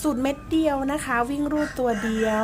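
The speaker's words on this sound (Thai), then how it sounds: "มีเสียงไก่ขันด้วยเนาะ" A rooster crows in the background while someone speaks Thai over it. Her voice stays in front, with the bird's call mixed behind the talk.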